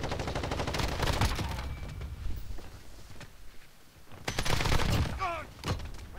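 Automatic gunfire from a RAM-7 rifle in Call of Duty: Modern Warfare, rapid bursts of close shots with pauses between volleys, plus faint footsteps and game effects.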